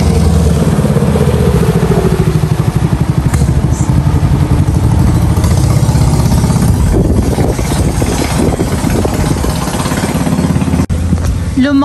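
A passing motorboat's engine drones and chugs steadily throughout on a river, rising louder partway through with rattling clatter, nearby and continuous.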